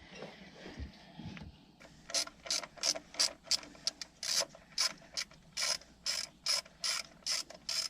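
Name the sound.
undoing a bolt on a Mercruiser mechanical fuel pump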